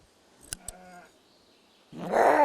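A young sheep raised on a Ukrainian farmstead bleats once, loud and close, after a few faint knocks and a quiet stretch.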